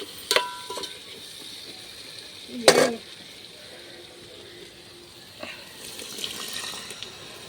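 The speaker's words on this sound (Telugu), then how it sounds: "ఇప్పుడు చింతపండు రసం అయితే వెళ్ళేస్తాను" Tamarind juice poured into a simmering curry in a home kitchen: a single short splashy pour near the middle, standing out against an otherwise quiet background with faint clinks.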